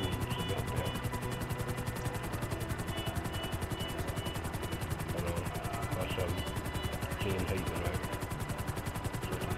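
A helicopter in Grand Theft Auto V hovers above a lab during a heist. Its steady, rapid rotor thumping fills the whole stretch, with players talking over it.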